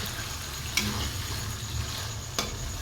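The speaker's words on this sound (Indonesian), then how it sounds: "gosreng dulu ya guys, biar tidak gosong" Sambal terasi, an Indonesian chili and shrimp paste, is dry-roasted in a pan, giving a steady soft sizzle with faint stirring scrapes and two brief clicks of the utensil against the pan.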